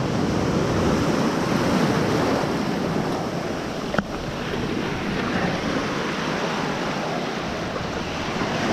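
Ocean surf at Old Orchard Beach, Maine, rolls in as a loud, broad continuous roar with wind buffeting the microphone and one brief knock midway, no one speaking.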